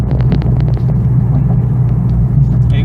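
A Camaro engine idles at low speed in steady traffic, giving a continuous low rumble close by with faint road noise and a few soft clicks on top.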